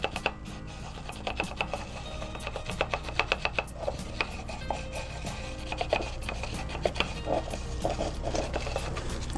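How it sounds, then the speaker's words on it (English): Guar gum being stirred into glycerin by hand, a steady run of quick scraping and tapping strokes against the container over a constant background hum. "Very important that we use glycerin to dissolve this first to make the blending part easy. So mix very well."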